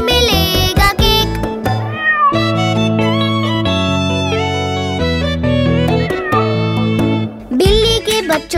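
Cartoon-style meowing in a Hindi children's song about kittens, pitched meow cries riding over a bouncy, melodic music backing, loud and upfront throughout.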